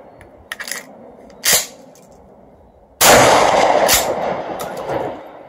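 A 12 gauge shotgun fires a Winchester slug outdoors, one loud sharp blast that rings out and decays over a couple of seconds, preceded by a few faint clicks and a short thud.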